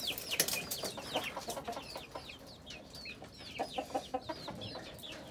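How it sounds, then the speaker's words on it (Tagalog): Backyard chickens, including a Peruvian and Brazilian cross, cluck and chirp in a busy flock, with repeated short calls close by over a low ambient murmur. "Ito na ang aking mga alaga, mga manok."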